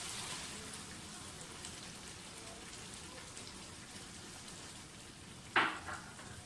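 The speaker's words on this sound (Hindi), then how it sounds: "अब इस मौके पर हम दही डालेंगे।" Yogurt goes into a black pepper chicken karahi, a steady hissing sizzle running throughout with a sharp louder crackling burst near the end as the yogurt hits the hot pan.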